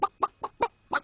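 Chicken clucking: five short, sharp clucks in an even, quick rhythm, close and clear, with quiet gaps between them.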